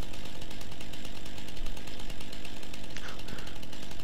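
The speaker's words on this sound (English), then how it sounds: "Chainsaw gang." Virtual chainsaw running steadily in the Farming Simulator game, a loud continuous buzzing motor drone with slight pitch wobble throughout, no speech over it.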